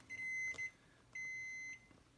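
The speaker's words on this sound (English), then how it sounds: "this tool, whenever there's electrical continuity, it beeps" A continuity tester probing connection points on a breadboard gives two clear steady electronic beeps, each about half a second long with a short gap between, alone in a quiet room.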